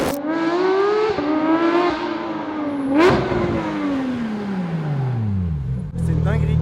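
Straight-piped car engine with free-flowing exhaust screams through rising revs, then drops into a long falling whine before a final sharp rev, loud and close with voices over parts of it.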